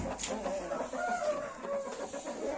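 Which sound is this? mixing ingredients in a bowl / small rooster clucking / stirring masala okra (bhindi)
small rooster clucking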